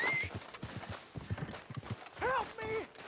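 Horse in the video game Red Dead Online, hooves clip-clopping in a quick rhythm with a couple of whinnies near the end, fairly quiet and close.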